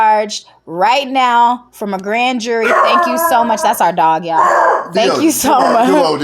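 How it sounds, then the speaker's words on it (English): A pet dog barks and yips repeatedly, loud and close, mixed through a man's speech as he talks over it. "That's our dog, y'all."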